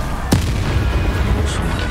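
A Confringo spell blast goes off in Hogwarts Legacy, a single sharp close boom followed by a rumbling fiery tail and lingering game ambience.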